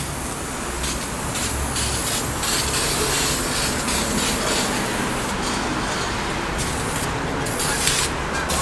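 An aerosol spray paint can sprays a base coat for artwork in one long continuous hiss, loud and close, steady throughout with slight variations as the nozzle moves.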